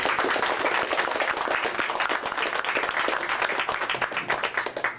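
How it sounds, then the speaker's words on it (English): Steady applause from an indoor audience for a musical duo at a poetry reading in a Barnes and Noble bookstore, a dense wash of many hands clapping that holds for the whole stretch. "a round of applause for them as well"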